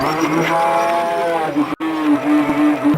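A pair of bullocks lowing at a village event in Uppar Wadi, giving a long, steady bellow with a brief break near the end, heard fairly close over outdoor background noise.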